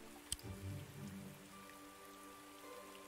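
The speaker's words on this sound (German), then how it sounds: "Das Ambiente lassen wir aber, dass es regnet." Steady rain ambience in the Wargroove scene editor on Switch, with a continuous patter of raindrops on a surface, faint and even throughout, with a brief louder tap near the start.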